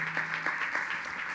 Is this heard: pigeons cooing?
no